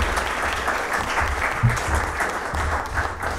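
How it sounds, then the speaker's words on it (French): An audience at a French-language foundation launch event applauds an honoree invited onto the stage, dense sustained clapping from many hands in a hall, fairly loud and even with a few low thumps. "on peut l'applaudir, bien sûr."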